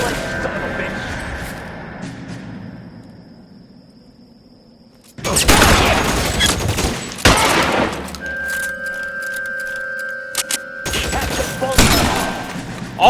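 A shootout in the L.A. Noire video game: near-continuous loud gunfire bursts and booms erupt after a quieter opening, with a voice talking over the action.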